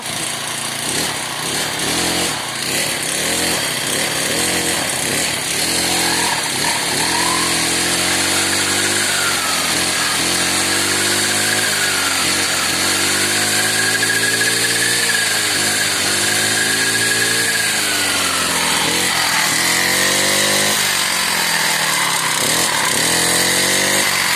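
A small grass-cutting brush cutter engine, freshly valve-checked, revs up and down continuously, its buzzing two-stroke whine rising and falling in repeated throttle sweeps, loud and close.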